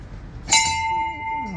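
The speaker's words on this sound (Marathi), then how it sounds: "काय घंटी बिंटी वाजवा ना तुम्ही" A bell at a Hanuman temple is struck once and rings on with a clear, steady, sustained tone that slowly decays, close and loud, with faint background noise.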